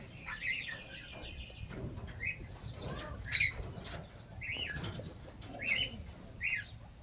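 A large red parrot at a farm lets out several short, sharp squawks and chirps at uneven intervals, close and fairly loud over quiet outdoor background.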